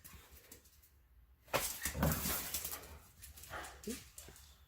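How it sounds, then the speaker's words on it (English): A dog indoors whimpers and gives short yips and low barks in excited bursts, close by, with a quiet stretch before the louder vocalizing begins. "Crazy dog."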